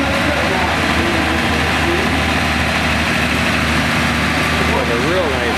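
A 766 tractor with a turbo runs close by at a steady heavy low rumble, loud and continuous, while people talk over it.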